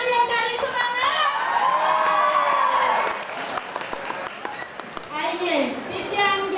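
An audience at a Balinese storytelling contest for the PKK women's group in Taro village claps and cheers, with lively shouting voices, some of them children, over scattered applause that dips midway and swells again.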